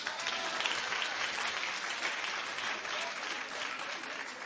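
Studio audience at a daytime talk show clapping together, a dense, steady wash of applause held at even loudness throughout with no voices over it.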